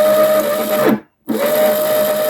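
A synchronous motor spins a mechanical high-voltage generator with a loud, steady electric whine and hum that cuts out for a moment, then resumes.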